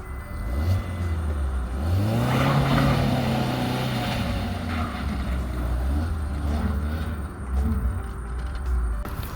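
A Suzuki Ertiga or XL7 engine revs while driving off-road, rising to a loud sustained roar, then settling into a steady hum with another push of throttle near the end.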